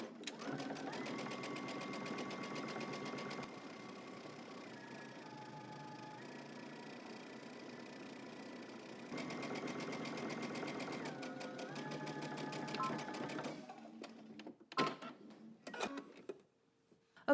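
A sewing machine stitches a garment hem on the right side, a close rhythmic whirring run in several bursts with short pauses and speed changes, then a few clicks as it stops.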